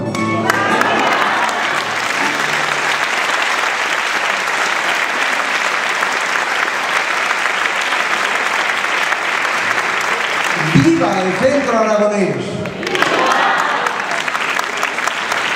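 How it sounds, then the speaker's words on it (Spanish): Loud crowd applause at a centenary celebration of the Centro Aragonés de Terrassa, a continuous roar of clapping with a voice shouting out over it near the end. "pediros un aplauso para ir calentando ambiente"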